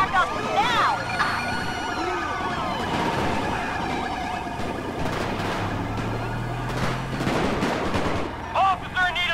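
Gunfire crackles in a shootout in the LSPDFR police mod for GTA V, with sharp bursts breaking through wailing emergency sirens over a steady, busy game soundscape.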